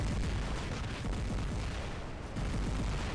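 Taran weapons on a robot in the War Robots video game pound out a dense, continuous barrage of rapid booming blasts that barely lets up.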